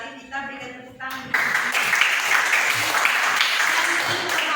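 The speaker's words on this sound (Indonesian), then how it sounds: "Kita berikan tepuk tangan." Classroom applause for a student who completed all the exercises well, a dense burst of clapping that starts about a second in and holds steady to the end, following a brief stretch of talk.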